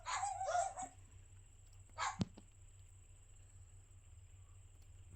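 Dogs barking in a room: a quick burst of several sharp barks at the start, then a single short bark about two seconds later, over a faint steady hum with no talking.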